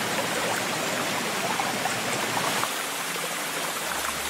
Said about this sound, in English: Enchanting waterfalls